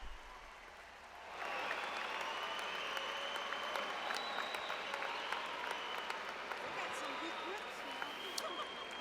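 A commencement audience for College of Education and Health Professions graduates breaks into loud, steady applause that rises after a quiet moment and holds for several seconds, with occasional cheers.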